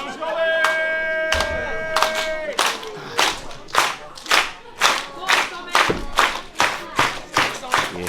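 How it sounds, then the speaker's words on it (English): Fans at a small independent pro wrestling show clap in a steady rhythmic beat, loud, evenly spaced claps about twice a second joined by chanting voices in the opening seconds. "You hear the crowd, folks."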